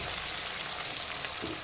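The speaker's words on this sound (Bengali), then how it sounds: "এখন দিয়ে দিচ্ছি পেঁয়াজ কুচি" Chopped onion hits oil in a pan where cumin seeds have been frying, giving a brief, quiet, even sizzling hiss with no voices.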